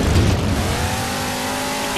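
A vehicle in Halo 4 gameplay drives with a steady engine drone that rises slightly in pitch, continuous for about two seconds and ending in a brief louder burst.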